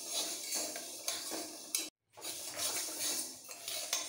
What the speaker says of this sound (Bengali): খুন্তি দিয়ে 2 মিনিট নাড়াচাড়া দিয়ে ডালটাকে একটু ড্রাই রোস্ট করে নেব